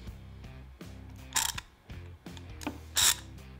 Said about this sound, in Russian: трещотка работает.